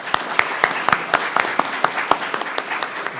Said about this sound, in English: a little round of applause, please